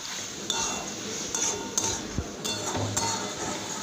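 Pointed gourd and spices are stirred in a pan with a metal utensil, producing irregular scraping clinks and taps against the pan over a low sizzling background.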